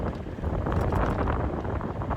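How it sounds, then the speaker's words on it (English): Steady, rough wind buffeting the microphone outdoors on a cold day on a golf course, a continuous low roar with gusty swells and no voices. "Boy, it is cold, it is windy"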